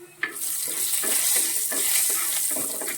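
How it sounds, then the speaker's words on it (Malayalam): Dried red chillies sizzle and crackle in hot oil for a Karkidakam-special thoran, a steady close frying hiss with soft rhythmic stirring scrapes every half second or so. "അതിലേക്ക് കുറച്ച് ഉണക്കമുളക് ഇട്ട് കൊടുക്കാം."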